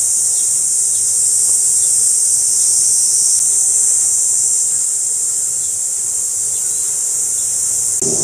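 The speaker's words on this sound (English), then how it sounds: "You can just hear the sound of the cicadas, a few birds calling." A dense, continuous high-pitched midsummer cicada drone fills the air in Tokyo beside the old Tokyo Medical School, steady and loud, with faint bird calls hard to pick out beneath it.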